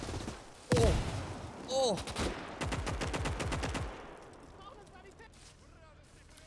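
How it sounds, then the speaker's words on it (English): Artillery barrage in a World War II strategy game, German campaign: a sharp blast followed by a rapid run of repeated loud explosive bursts, then scattered distant booms fading out, with a brief exclamation over the opening impact. "We got hit with some good old fashioned counter artillery."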